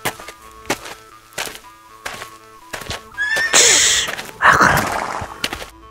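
A horse in a Kyrgyz animated folktale gives a loud, bright whinny after a series of sharp, evenly spaced hoof clops and knocks, with no speech.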